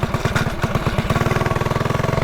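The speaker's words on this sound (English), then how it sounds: "I turned my idle up to a little high" A mini bike engine idles high with a fast, steady train of firing pulses, close and loud with no voices.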